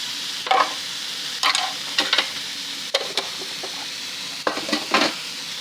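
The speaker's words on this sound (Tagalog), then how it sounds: "Mix natin hanggang sa bumango siya." Pork belly with sugar is stirred in a sizzling pan, soft steady frying hiss broken by several scraping stir strokes at irregular intervals.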